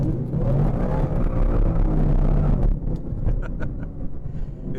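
A Whipple-supercharged 2018 Ford Mustang GT accelerates hard, a loud low engine roar with rising whine and wind buffeting, easing off partway through with the rumble settling lower.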